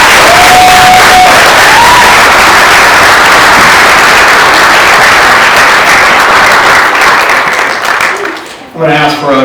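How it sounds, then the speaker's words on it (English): Loud, dense applause from a large seated audience at an event fills the space and fades out near the end, where a voice begins speaking. "Give a round of applause one more time."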